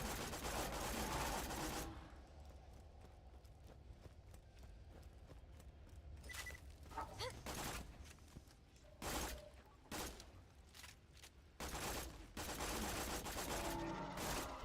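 Video game gun fire, bursts of sharp shots and rapid volleys at intervals over a low rumbling backdrop, with loud dense stretches at the start and end.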